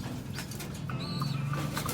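A young pigeon giving a soft, low cooing call close by, against steady background hum, with faint higher chirps from other birds.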